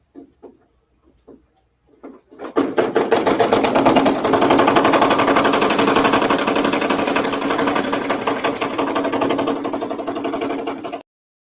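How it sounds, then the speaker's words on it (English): Embroidery machine needle stitching through basswood, a loud, steady rapid mechanical chatter that starts after a couple of faint taps and runs continuously for about nine seconds before cutting off. "It's a needle piercing wood."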